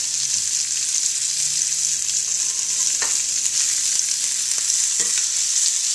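Shallots seasoned with salt and pepper sizzle steadily in hot bacon grease in a pan for an omelette, a continuous close frying hiss with a few soft stirring clicks and no talk.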